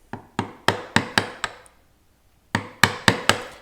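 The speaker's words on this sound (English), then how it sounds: "I'm going to use a smaller chisel." Mallet strikes driving a 1/2-inch chisel into wood while carving Gothic tracery by hand, a close series of sharp rhythmic knocks in two groups separated by a brief pause.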